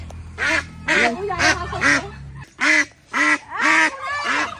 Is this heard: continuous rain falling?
no